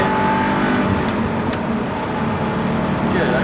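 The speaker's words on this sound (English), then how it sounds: "Gradually start feeding the throttle on." Audi R8 pulling away under gradually increasing throttle on a driving course, a steady loud engine drone with rising revs, overlaid by an instructor's voice talking throughout.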